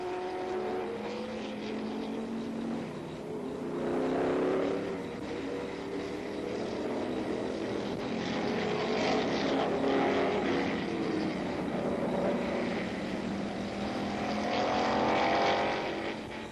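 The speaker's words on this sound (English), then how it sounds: "Oliver in the BRM was setting a cracking pace and seemed to have the race in hand" Formula One racing cars, including a BRM, at a 1970 BRSCC race, their engines droning steadily at a distance, swelling and fading in passes with a rising and falling pitch and no speech.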